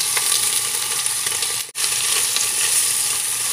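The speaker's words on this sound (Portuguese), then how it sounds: "Vou fritar até dourar bem. Bacon e calabresa bem fritos, bem dourados." Diced bacon and sliced calabresa sausage sizzle in olive oil in a pan, a steady dense crackle held throughout with one brief dip partway.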